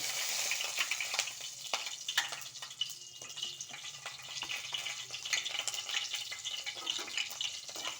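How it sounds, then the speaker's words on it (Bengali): Panch phoron five-spice seeds frying in hot oil for a potato curry, a quiet patter of crackles and small pops, fairly close, no talk. "তেলটা গরম হয়ে গেছে, 5 ফোড়নটা দিয়ে দিলাম"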